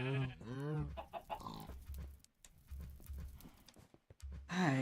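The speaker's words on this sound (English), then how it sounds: "Now that we have chickens" Chickens cluck in a Minecraft pen, short repeated clucks and squawks coming in quick irregular bursts at close range.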